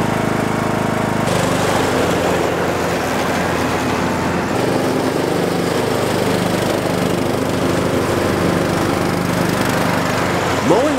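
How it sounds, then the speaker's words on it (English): A lawn tractor engine drones steadily and loudly throughout while mowing grass, with a constant close-up motor hum and no pauses. "Mowing with the lawn tractor is multiple times faster and multiple times easier than push mowing."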